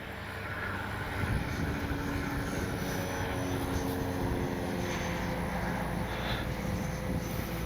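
A Flyfans K-8 Red Falcon 6S radio-controlled jet plane in flight gives off a steady rushing whine at moderate distance. The sound is continuous and even, and nobody speaks.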